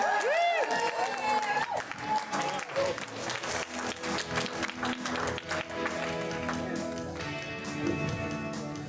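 Audience applause and cheering welcome comedian Sofie Prince to the stage at a live comedy night, loud and sustained, with music swelling alongside it.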